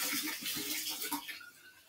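Tap water runs steadily and close, a loud broad hiss with slight gurgling changes as the flow is adjusted, fading a little toward the end.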